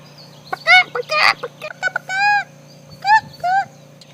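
Several short, nasal chicken clucks with harmonic squawks, spaced irregularly over a low steady hum; the clucks are fairly close and clear.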